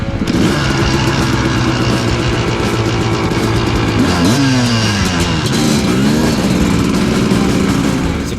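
Suzuki RM250 and KTM250SX-F dirt bikes riding out on the first ride of the season in Bulldog Canyon, a loud, steady, close engine drone with rising and falling revs throughout, no talking.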